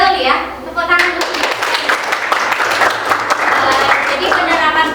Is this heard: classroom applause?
yes